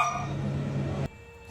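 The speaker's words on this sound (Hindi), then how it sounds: "कभी किसी खाली कॉर्नर की तरफ देखकर भौंकते" Dogs bark and whine inside a family home in one close, loud, sustained burst that cuts off abruptly after about a second, with no talking.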